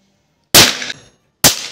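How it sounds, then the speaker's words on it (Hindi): Two loud, sharp snapping bangs from a thread-pull firecracker's leftover part struck with a hammer, the first with a brief fizzing tail, separated by about a second of silence. "इसके बचे हुए हिस्से पर हथौड़ा मारने पर भी ये ब्लास्ट करता है"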